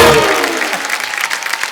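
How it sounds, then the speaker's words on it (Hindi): A studio audience at The Kapil Sharma Show, a comedy talk show, breaks into loud, dense applause that sustains for a couple of seconds and gradually thins out. "एक बार नकली बच्चन फैमिली के लिए जोरदार तालियां।"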